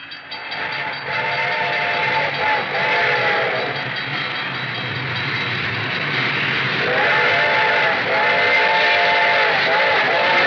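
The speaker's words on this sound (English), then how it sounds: "I could hear its bell ringing and the cry of its whistle." A train rumbles close by while its whistle sounds in long repeated blasts, first early on and again near the end, with a bell ringing under the roar.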